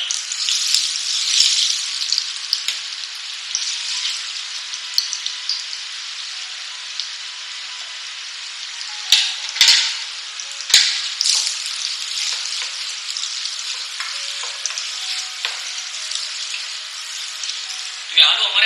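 Mashed potatoes fry slowly over low heat in hot ghee, giving a steady close sizzle with occasional louder crackles and stirring scrapes throughout, with no talk.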